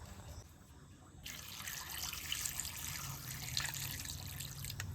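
Water and a capful of vinegar pour onto Bombay duck fish in a bowl, a soft steady trickle starting abruptly and running close and quiet.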